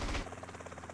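Helicopter in GTA San Andreas, a steady rotor drone with a regular pulsing chop, loud and close, opening with a heavier rumbling swell before settling into an even beat.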